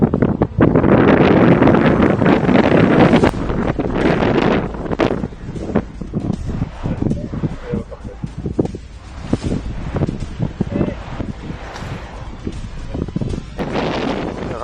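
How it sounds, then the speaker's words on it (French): Strong wind gusts on a golf course buffet the microphone in heavy roaring bursts, easing into choppier rustling blasts before surging again, loud and close. "Il y a le vent."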